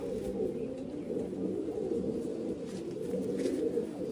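A striped (dhari) pigeon coos softly and continuously, a low, throaty murmur repeating without pause against quiet surroundings.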